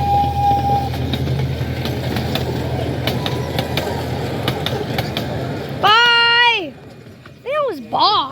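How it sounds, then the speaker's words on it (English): A train rumbles past a level crossing with rhythmic clattering wheels, then a loud, wavering horn blares twice nearby, with talking underneath. "Here comes the train, you guys."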